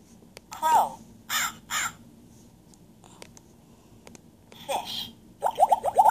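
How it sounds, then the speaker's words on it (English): A crow caws in several harsh, separate calls, near and clear, ending in a quick run of rapid caws, with a brief voice speaking in between. "Crow."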